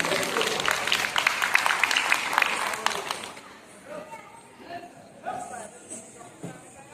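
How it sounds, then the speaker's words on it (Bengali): An audience at an astrology, vastu and tarot conference claps loudly together for about three seconds, then the applause stops and a quieter stretch follows with faint voices and stray sounds. "করতালি দিয়ে সমর্থন করতে"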